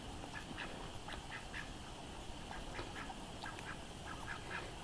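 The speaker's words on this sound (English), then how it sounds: "So we have 9 ducks left." A small flock of ducks on a homestead quacks in short irregular bursts at a moderate distance over a steady outdoor hiss, with no talking.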